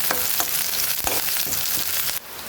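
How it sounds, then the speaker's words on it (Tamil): Steady crackling sizzle of onions frying in hot oil, close and continuous, with a few soft stirring knocks and a brief drop in level near the end. "வெங்காயம் வந்து நல்லா வதங்கட்டும்."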